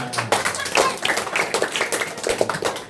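A short burst of scattered clapping from a few people at a Sunday school gathering in a home, uneven and close, with some voices mixed in.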